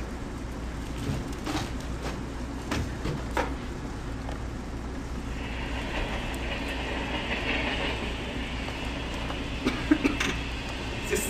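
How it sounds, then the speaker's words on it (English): A train rolling along rails, a steady low rumble with faint clickety-clack and higher squeal rising in the later half, continuous and fairly close with no talk. "This train is awful."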